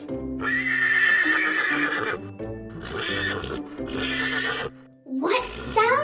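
A horse whinnies loudly and close, in several long, wavering neighs with brief gaps between them. Hoof clip-clops and a final rising squeal come near the end.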